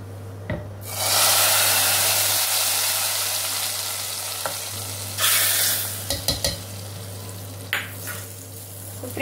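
Garlic, red chilli and coriander frying in hot oil as a tempering for Sindhi-style green moong dal, a loud sizzle that surges and fades with stirring, followed by sharp spoon clinks and scrapes against the pan.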